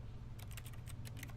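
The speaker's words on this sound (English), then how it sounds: "why is it when I click, it sounds like typing?" Mouse clicks in The Stanley Parable that sound like computer keyboard typing, a quick irregular burst of light clatter over a steady low background hum.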